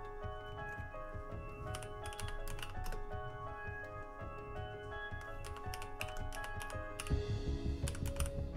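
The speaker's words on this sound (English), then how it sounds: "Why are you typing so loud?" Loud, rapid typing on a computer keyboard during a tabletop role-playing game session, a dense steady clatter of keys running throughout, with a brief louder flurry near the end.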